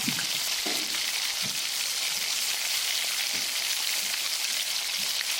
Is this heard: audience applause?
no